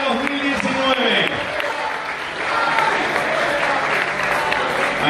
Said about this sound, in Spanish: El aplauso para Carlitos Vera